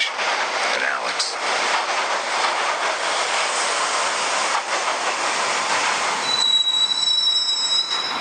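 Subway train ride in Max Payne, a loud continuous rumble of wheels on rails with a high metallic squeal rising near the end.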